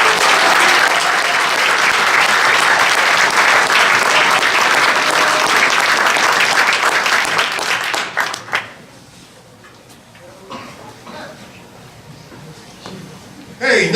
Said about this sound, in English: please give a huge round of applause to Danielle Pankos, Claire Westfall, Carly Purdy-Facere, and our managing team captain